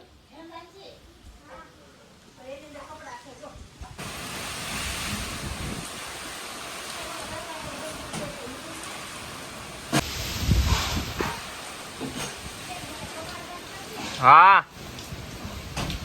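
Rain starting during a storm: after a quieter opening with voices, a steady broadband hiss of rain sets in and keeps going, with people talking over it.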